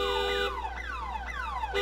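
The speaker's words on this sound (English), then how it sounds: "That's my car alarm." A car alarm on a city street wails continuously with rising and falling electronic sweeps, loud and near, with no one talking.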